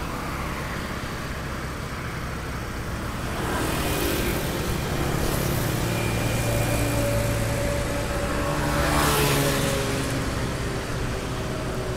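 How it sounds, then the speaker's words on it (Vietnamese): Road traffic rushes across the Phù Đồng bridge over the Đuống river in Hanoi, a continuous loud roar of cars and motorbikes with two vehicles swelling past close by, no speech. "Xe cộ chạy ào ào, mình nói chắc là cũng nó tiếng ồn nó hơi lớn"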